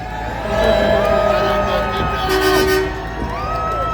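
Car horns honk at a protest, several sustained toots of different pitches overlapping above a murmuring crowd, loud and close.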